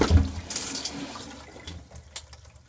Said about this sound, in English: now pour off the dirty water